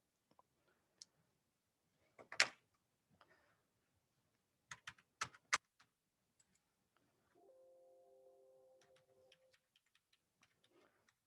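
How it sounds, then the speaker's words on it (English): A computer keyboard being slammed and typed on in scattered, sharp clicks and clacks at close range, with a couple of heavier hits and a brief faint tone partway through. "just slamming on the keyboard worked"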